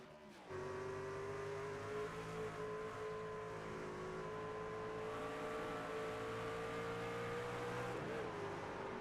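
Racing truck engines rev hard on the Watkins Glen road course, a loud sustained whine with shifting pitch and throttle modulation heard from on board, continuous for the whole stretch with no talking.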